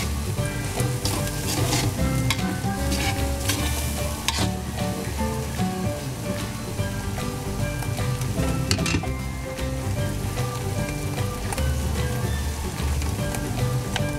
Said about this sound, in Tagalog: Haluin natin. Baka dumikit na.